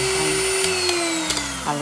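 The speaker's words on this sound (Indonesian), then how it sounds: "kita mixer lagi sampai tercampur semua." Electric hand mixer beating red velvet choux batter: a steady motor whine with a strong tonal hum, close and loud, with a few brief knocks of the beaters against the bowl.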